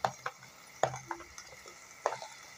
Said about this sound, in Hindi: टमाटर को अच्छे से पकाएंगे लगातार चलाते हुए।